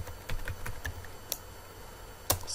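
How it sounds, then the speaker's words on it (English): A command is typed on a computer keyboard in a quiet room: sparse key clicks close to the microphone, with a few sharper, louder taps standing out. "So we write convert"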